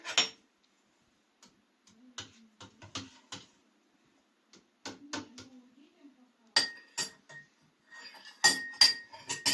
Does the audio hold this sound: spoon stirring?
yes